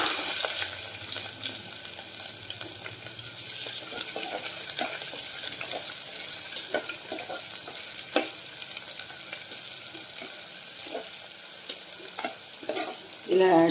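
Chopped onions and green chilies fry in a pan for a brinjal curry, giving a steady close sizzle with occasional scraping stirs and clinks throughout.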